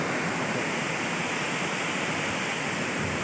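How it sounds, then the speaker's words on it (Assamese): Kakochang waterfall in Karbi Anglong pours in a steady, dense roar of rushing water, close and constant with no pauses. "কাকচাং ৱাটাৰফল কি সুন্দৰ পৰিৱেশ"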